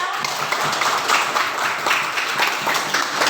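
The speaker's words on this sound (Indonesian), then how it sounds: "tepuk tangan untuk kita semua" Sustained applause from a class, a dense steady wash of many hands clapping at even loudness for a few seconds, with no voices over it.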